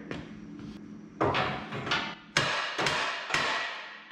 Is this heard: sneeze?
no